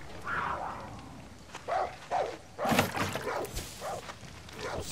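A dog barks in the Far Cry 6 video game, a few short bursts spaced across the clip, fairly close, mixed with game ambience and faint voices.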